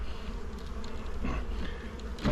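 Honeybees swarm around an opened hive after coming out of winter strong, filling the air with a dense, steady close-up buzz that carries on continuously with no talking.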